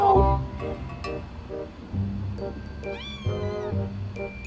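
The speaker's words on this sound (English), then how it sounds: "There's the cat." A house cat meows repeatedly in short, close, loud calls spaced about half a second apart, ending with a longer rising and falling meow, while a person mutters briefly in the background.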